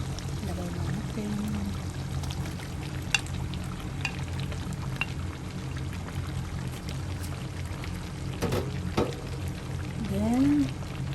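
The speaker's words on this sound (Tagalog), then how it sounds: "Potato and carrots. Ilagay na natin." Fried potatoes and carrots tumble into a pan of simmering adobo, sizzling steadily as they are stirred, with a few clinks and short whistling squeaks near the end.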